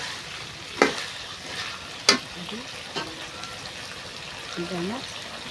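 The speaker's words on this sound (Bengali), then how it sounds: "এই মাংসটা আমি কষায় নিলাম" Duck meat stir-frying in a pan, a soft continuous sizzle broken by a few sharp clinks of a utensil against the pan, close by, with faint bits of voice in the background.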